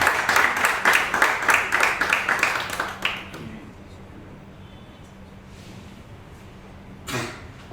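Audience clapping for an arriving guest at a telecom entrepreneurs' panel session, a dense burst of many hands for about three seconds that stops abruptly and gives way to quiet room tone with a faint noise near the end.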